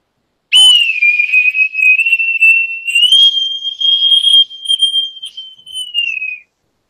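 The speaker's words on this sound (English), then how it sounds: "Whistle." A single long, shrill whistle held for several seconds, wavering slightly in pitch and fluttering in loudness before stopping.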